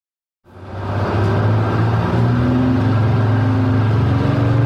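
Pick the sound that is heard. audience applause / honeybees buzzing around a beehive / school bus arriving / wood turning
school bus arriving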